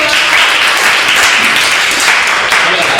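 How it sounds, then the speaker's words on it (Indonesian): Classroom applause for a student during a Japanese micro-teaching lesson, a steady dense wash of clapping from a group, filling the whole stretch at even loudness. "Tepuk tangan dulu dong buat Yesi-san"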